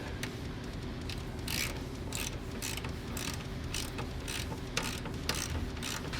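Metallic ratcheting while loosening the oil drain bolt on a 2011-14 Ford Mustang GT, a steady series of quick clicks under a low background hum, close and fairly faint.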